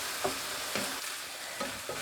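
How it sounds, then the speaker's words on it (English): Finely chopped red onions fry with browned meat in a pan, a constant close sizzle punctuated by four spoon-stirring scrapes at regular intervals. "I'm going to add a handful of very finely chopped red onions. You could use any onion you want, and keep stirring it."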